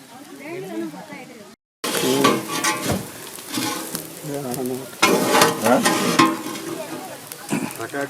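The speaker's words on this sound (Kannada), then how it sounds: "ಬಟಾಟೆ ಫ್ರೈ ನೋಡಿ ಸುಮ್ಮನೆ" Baby potatoes fry and roast in ghee with continuous sizzling, interrupted by scraping stirs and a brief silent gap, while a voice speaks over the cooking.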